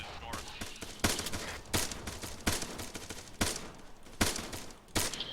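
Gunfire in a military video game training session, a string of sharp shots and short bursts at irregular intervals, some near and some more distant, over background game noise with voices mixed in.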